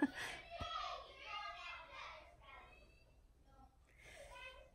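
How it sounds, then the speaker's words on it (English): Children's voices calling and shouting in a home, faint high cries rising and falling behind a closer adult speaking. "I hear kids yelling."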